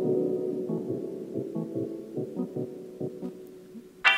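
An organ plays through the right channel of a Klark Teknik DN360 spring reverb, soft sustained chords pulsing in a slow rhythm with a wet, lingering tail, ending in a brief bright burst.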